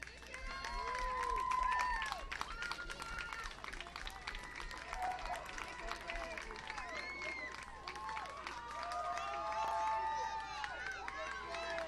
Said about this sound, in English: will you please join me in giving them a great round of applause for their play here this week